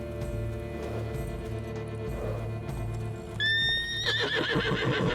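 A unicorn neighs in The Witcher 3 over soft clip-clop hooves and a steady game ambience, the whinny rising loud and close near the end.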